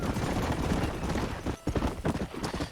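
Horse hooves in the Red Dead Redemption game, a steady rapid clip-clop of galloping at moderate loudness, with a brief dip midway before the rhythm resumes.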